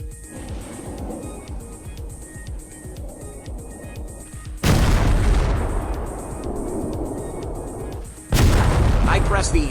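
Missile blasts in the video game Teardown: heavy, booming explosions, with a loud detonation around the midpoint and another near the end, each rolling into a long rumbling decay over steady background game noise.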